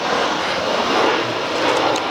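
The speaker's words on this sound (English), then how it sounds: "Sorry about the aeroplane noise." A steady, loud roar of an airplane passing overhead a garden polytunnel, a broad rushing drone that fills the whole stretch without letup.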